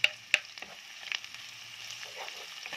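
Chopped ginger sizzles in a hot pan while ginataang pagi (stingray in coconut milk) cooks, with a steady frying hiss, a couple of sharp clinks of a utensil near the start, and stirring scrapes throughout.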